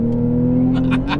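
A 2017 Porsche 911 Carrera 4S PDK revs hard at launch with traction control off in Sport Plus, a loud steady engine drone with rising bursts near the end.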